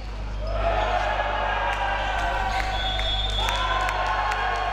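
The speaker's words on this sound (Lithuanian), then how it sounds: "Vėl čia plojimai Sitnikui." Indoor arena crowd clapping and cheering for a player during a fifth-set men's volleyball league match in Lithuania, a sustained wash of applause from the stands with a commentator talking over it.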